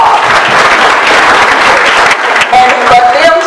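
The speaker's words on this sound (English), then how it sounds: "Let's give him a round of applause." An audience at an evening fundraiser dinner celebration applauds for the master of ceremonies, producing loud, sustained clapping that fills the whole stretch, with a faint voice emerging near the end.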